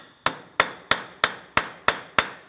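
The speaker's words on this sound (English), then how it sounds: "To help break this free, I'm using a hammer and punch directly in the center of the axle" Seven sharp metallic hammer blows on a punch set into the center of a front axle on a 2004-2008 Pontiac Grand Prix, evenly spaced and close, each ringing briefly before the next strike.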